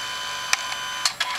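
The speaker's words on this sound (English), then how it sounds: "So it is now printing that picture." A Canon Selphy CP900 compact photo printer makes a few sharp mechanical clicks and short whirs while printing a picture, close and quiet against a steady hum.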